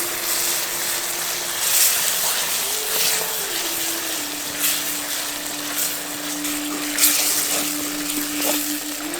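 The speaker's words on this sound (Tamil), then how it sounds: "இப்போ கொஞ்சம் தண்ணி ஊற்றி மசாலாவை நல்லா கொதிக்க வச்சிடலாம்." Water poured into a masala for a Masi karuvadu (dried tuna) kuzhambu, then hissing and bubbling at a steady close boil in the pot with a faint background hum, and no talking.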